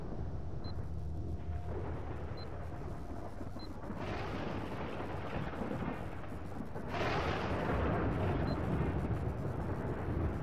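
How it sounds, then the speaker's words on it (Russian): An in-game explosion in S.T.A.L.K.E.R., a deep rumbling blast swelling into a long roaring wash, followed by a second heavier surge, heard over steady low background ambience. "Ой, тут что-то взорвалось все."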